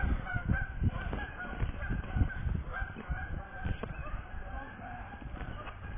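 A flock of geese honks repeatedly in busy, overlapping calls, fairly close, alongside rustling and some human talk.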